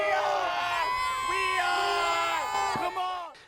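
Penn State Nittany Lions fans at an NCAA lacrosse quarterfinal against Princeton in Newark, a loud crowd cheering and whooping continuously with high shouted voices, close and dense.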